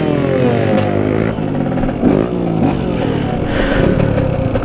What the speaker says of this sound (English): it's my first ride on the KTM